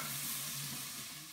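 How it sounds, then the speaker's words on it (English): Chorizo frying hot in a pan, giving a steady soft sizzle and hiss with a faint low hum underneath, fairly quiet and continuous. "So get that frying nice and hot"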